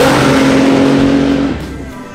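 A 1300 hp GTR race car on a track gives a loud, steady engine drone close by, then the roar drops away and fades after about a second and a half.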